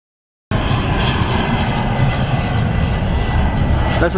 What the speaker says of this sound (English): That's the same jet that just landed when we were there in the tramway.